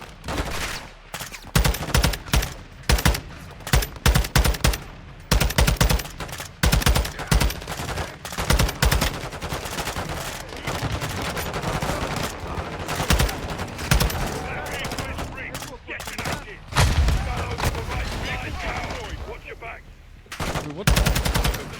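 Bursts of gunfire and rapid cover fire ring out in a Call of Duty battle, loud sharp volleys repeating in clusters across the whole stretch, mixed with game sounds and a faint voice at times.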